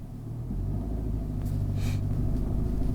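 A 2021 Kia K5 (Optima) pulls away uphill from a stop, a steady low engine rumble holding throughout with a brief rise in road and intake noise partway through, heard from inside the cabin with no talk.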